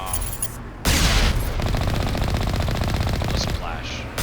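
Mako tank cannon firing in the Mass Effect video game, a loud burst of rapid, rhythmic shots continuing steadily for about three seconds after a brief quieter lead-in.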